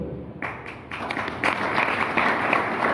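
Clapping from a crowd at a Ganesh festival religious-awareness gathering in Savda: steady, dense applause that swells and grows louder partway through and keeps going.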